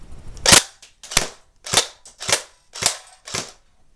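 A Crosman Pulse R76 airsoft rifle fires six sharp, close single shots on semi-auto, spaced about half a second apart, each a crisp snap with a short rattle, and no speech.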